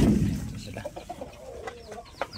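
Soft, scattered clucks from a few heritage chickens, Rhode Island Red and Black Australorp, fairly close, with a low rumbling murmur at the start and brief higher calls toward the end.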